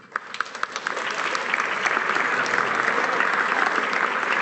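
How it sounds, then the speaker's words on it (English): Audience at a formal event honouring the Chief Justice of Canada breaks into sustained applause, a dense wash of many hands clapping that swells and holds steadily throughout. "they already broke the rules and they're applauding for you"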